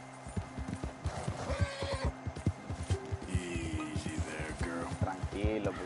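A horse in Red Dead Redemption 2 clip-clops along at a steady gait and whinnies in several rising, quavering neighs, heard fairly close and moderately quiet.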